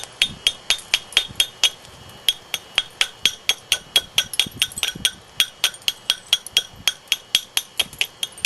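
Percussion flintknapping on a stone biface, with about thirty sharp, bright clinking strikes landing in a quick, fairly regular rhythm. They are close and crisp, with faint handling noise between blows.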